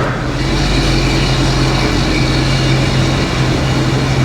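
A car engine idles high with a loud, steady, even drone throughout and no voices over it.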